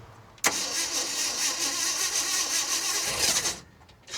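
A Ranger's engine cranks and catches with a jumper wire run from the battery to the coil, then runs and revs roughly for about three seconds before dropping away, loud and close.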